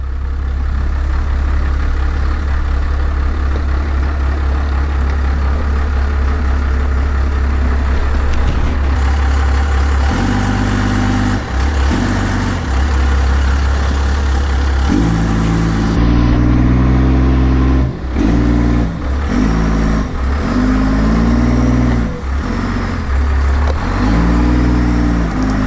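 A Cummins-powered pickup truck idles and then revs while crawling through a small off-road crossing in two-wheel drive, its engine loud and close throughout, with heavy low rumble and repeated throttle surges.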